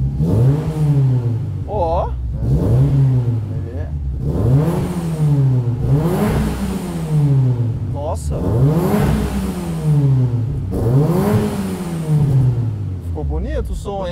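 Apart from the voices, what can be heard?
Fiat Palio 1.0 car engine revving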